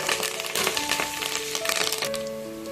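Curry leaves hit hot oil in a pan with a loud, steady sizzle and crackling pops throughout; faint tonal hums run underneath and no one speaks.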